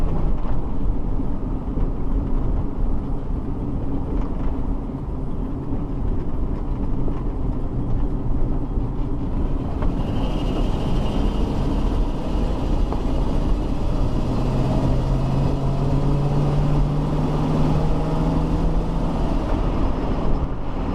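A 1966 Ford Thunderbird Landau cruising at about 50 mph, heard from inside as a loud continuous engine and road rumble with steady wind roar and a faint rising whine midway.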